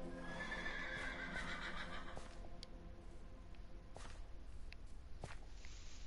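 A Minecraft horse whinnies loudly at the start, followed by a few hoof clops and shuffling steps in an otherwise quiet scene.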